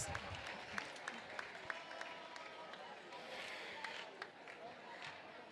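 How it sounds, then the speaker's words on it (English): An audience claps at a school lecture series event, a dense steady patter of applause filling the room for several seconds with no break. "Give yourselves a round of applause."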